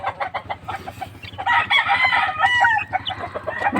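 A hybrid rooster crows loudly at close range in one long, drawn-out call, with scattered clucks from other chickens before and after.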